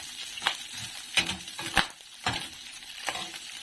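Onion sautéing in oil gives a soft, steady sizzle, broken by about six rhythmic scraping strokes of a spatula against the pan, close and fairly quiet with no talking.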